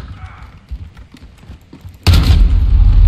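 A loud, sudden gunshot boom from a video game erupts about two-thirds of the way through, following quieter muffled thumps and footsteps, and its rumbling blast sustains to the end.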